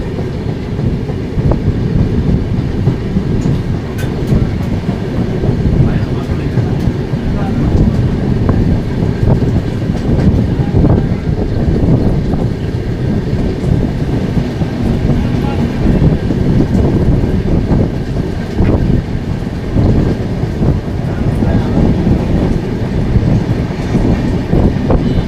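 The Shirdi to Puri superfast express, train 20858, rolling along the line near Raipur, Durg and Bhilai, with a loud continuous rumble, rattling carriages and wind rushing past a microphone on board.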